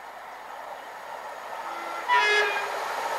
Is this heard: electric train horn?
yes